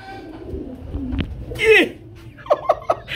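Pigeons for sale at a market call close by, a soft rising coo followed by a few short, sharp calls and light fluttering, with no talking.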